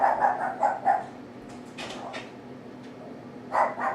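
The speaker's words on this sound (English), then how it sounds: "Don't mind them, those are just my dogs." Several dogs bark in a home in short bursts, a cluster of yips at the start and another pair near the end, moderately close with quieter shuffling between.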